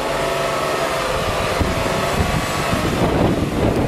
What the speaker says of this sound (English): Let's give it one good rev.